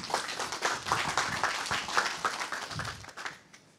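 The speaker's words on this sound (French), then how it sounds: "félicitations et applaudissements pour le CITPI" Applause from an audience at a free-software award ceremony, a moderate crowd clapping steadily for a few seconds before tapering off.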